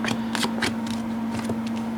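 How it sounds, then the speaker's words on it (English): Tarot cards being shuffled and pulled from a deck, a close riffle-like flutter in a few quick bursts with a steady low hum underneath. "When it comes to Musk, let's pull the cards."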